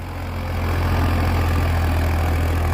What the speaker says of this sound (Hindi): दूसरे का हाई है और चाल देखो ट्रैक्टर की